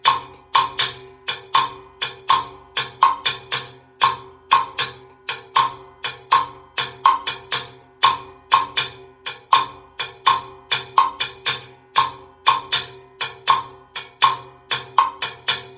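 Sharp, dry percussion strokes repeat in a steady Latin groove built on a 2-3 clave, close and bright, with dense clicking hits cycling for several bars and no voices.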